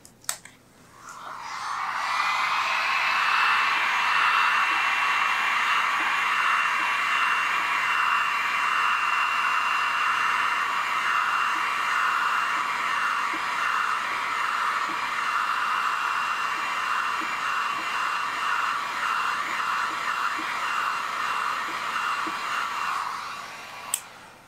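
A heat gun blows hot air to set paint on a custom crankbait, switching on after a brief click and holding a steady, close, airy hiss for about twenty seconds before cutting off, with no voices.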